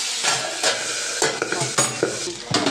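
Salted, turmeric-coated singhi fish frying in a little oil, a close, crackling sizzle with sharp spits and bursts as the pieces settle in the pan.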